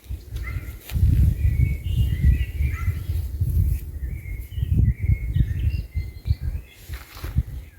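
Birds chirp and twitter in short bursts over a heavy low rumble of wind or handling noise outdoors, fairly close but partly masked.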